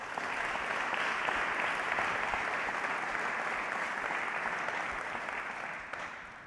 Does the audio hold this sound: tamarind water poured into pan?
no